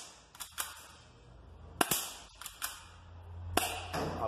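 Sharp snapping shots from a Crosman Colt 1911 airsoft pistol, a handful of them spaced irregularly, one striking an aluminium door, with faint background hum between.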